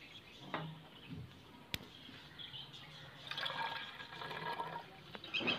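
Plain water is poured into a 2-litre plastic spray bottle, a faint splashing trickle that starts and stops in short bursts, quiet and close, with small clunks of handling between pours.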